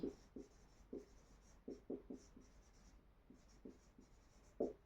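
Writing on a board during a Hindi-language physical geography lesson on ocean currents: a steady series of soft, close tapping strokes and scratches, quiet and unaccompanied by speech.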